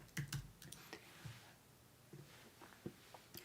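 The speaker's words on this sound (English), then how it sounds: "let's type in the word church" Keys clack on a computer keyboard in short irregular bursts, a quick cluster at the start, then sparser taps spread out, close and fairly quiet with no talking.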